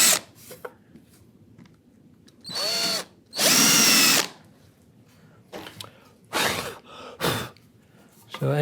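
A power drill drives a fairly small screw into wood in a woodworking shop, heard as several short high whirring bursts of varying length separated by quiet pauses, close and loud, with no talking.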